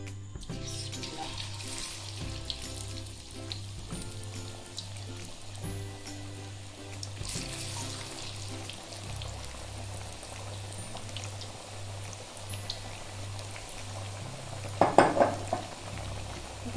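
Potato chips frying in hot oil in a wok over full flame, a steady dense sizzle and bubbling throughout, with a louder burst of crackle and clatter near the end.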